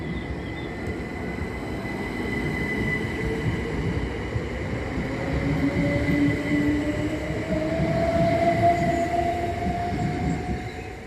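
Southern Railway unit 377468 pulls out of Havant station, a rising electric motor whine and rolling wheel rumble building steadily as the train departs, with no talk.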